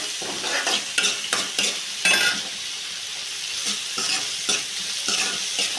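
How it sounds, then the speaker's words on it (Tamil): Onions fry in hot oil with cumin while a spoon stirs them in the pan, a steady close sizzle broken by scraping stirs in uneven bursts, with no talk. "வெங்காயத்தை நல்லா வதக்கி விட்டுக்கலாம்."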